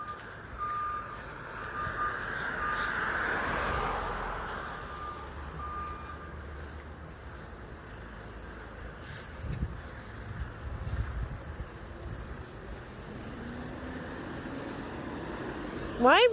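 A large school bus rolls along a street, its low engine rumble swelling and fading at a distance, with a steady reversing-style beep tone heard early on and light ambient noise throughout.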